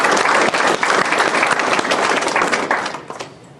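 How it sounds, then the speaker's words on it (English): A crowd applauds with dense, sustained clapping that gradually fades out near the end. "Let's give them a round of applause."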